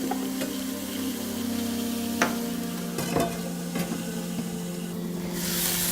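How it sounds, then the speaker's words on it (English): Marrow bones brown in a hot pan with a steady, even sizzle of frying, broken by a few sharp clinks and scrapes as they are stirred, close and constant. "My marrow bones are nice and brown."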